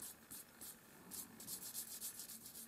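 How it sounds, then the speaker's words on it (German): A nail file buffs a gel nail surface to a matte finish, a steady rapid rubbing with rhythmic scratchy strokes, close and fairly quiet with no talking. "als nächstes mattiere ich mir meine Oberfläche leicht an"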